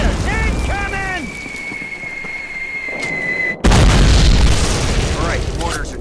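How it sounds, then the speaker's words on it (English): A heavy mortar explosion bursts loud and close midway through, shaking a Call of Duty World War II street battle against German forces; shouting voices, whistles and scattered combat noise fill the moments before it. "Mortars! Incoming!"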